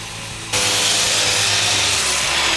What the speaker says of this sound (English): I needed to trim down the side of the one board on the top to get the angle right